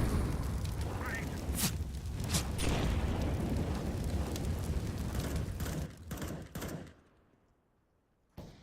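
Dense game-audio barrage on the CS:GO map Dust2: loud booming blasts and sharp gunfire cracks fill most of the stretch, with a grenade explosion among them, then the noise drops away to near quiet before one last brief thump.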